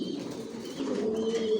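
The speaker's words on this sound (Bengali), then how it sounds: "এখানে যে কবুতরগুলো দেখতেছেন এগুলো মাস্টার পেয়ার, রানিং পেয়ার, এগুলো রেস্টে দেওয়া আছে" Racing pigeons coo softly in a loft, their low, rolling calls continuous and close, swelling slightly louder toward the end with no talking.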